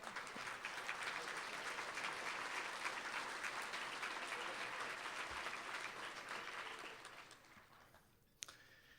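At an awards gala, a large audience applauds in a dense, sustained roar of clapping that holds steady, then gradually thins and fades toward the end, leaving one final sharp clap.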